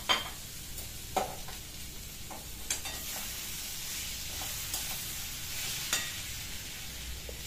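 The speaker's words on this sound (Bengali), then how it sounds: "এবার আমি এর মধ্যে ভেজে রাখা এঁচোড় আর আলুটাকে মিশিয়ে দেব" Fried jackfruit and potato pieces being stirred into cooked-down masala in a pan, a steady soft sizzle with several sharp scraping strokes of the spoon at irregular intervals, close and alone without talk.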